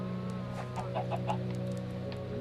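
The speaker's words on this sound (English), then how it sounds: "I heard a chicken egg go bloop." Minecraft chicken sounds in a let's-play game session: a few short clucks and a soft popping egg-laying blip, moderately clear over a steady tonal game-music drone.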